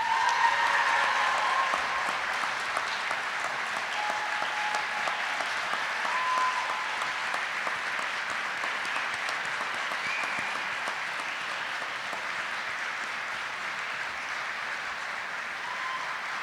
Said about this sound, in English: Please join me in a round of applause for the Army's newest aviation warfighters.